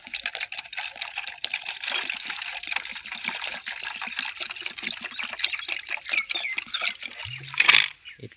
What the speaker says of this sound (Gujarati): આપણે પાણી ભરતી ગઈએ